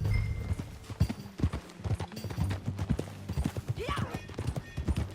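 Hooves clip-clop in a steady rhythm close by, with a horse whinnying partway through and a brief spoken word, in Red Dead Redemption 2.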